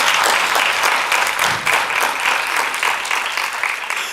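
Loud, sustained applause from a crowd at a Sikh research summit, dense and steady throughout, slowly tapering near the end.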